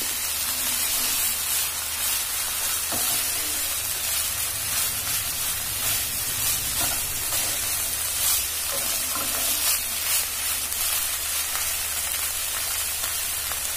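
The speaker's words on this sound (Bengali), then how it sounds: "আদা রসুনটা আমি ভালো করে কষে নেব যাতে না কাঁচা গন্ধটা বের হয়।" Ginger and garlic sautéing in a hot pan, a loud dense continuous sizzle with occasional stirring scrapes, close up and steady throughout, no talking.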